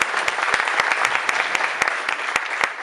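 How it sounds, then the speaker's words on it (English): At a magic show, audience members clap for a volunteer returning to their seat: a moderate crowd applause with a few sharp, prominent claps nearby punctuating the steady background patter. "Give it a nice round of applause"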